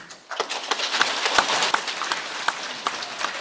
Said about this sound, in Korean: Please give Venerable Mungang S님 a big round of applause when coming down the stairs